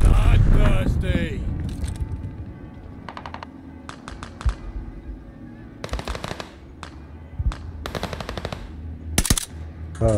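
Rapid automatic gunfire bursts and scattered single shots from Call of Duty: Vanguard free-for-all multiplayer, loud and close with sharp repeated cracks, heavy at the start and then in short clusters, with a voice talking over parts of it.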